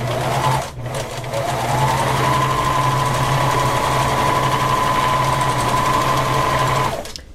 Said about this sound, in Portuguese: Eu vou passar uma costura reta para prender a alça nessa parte aqui.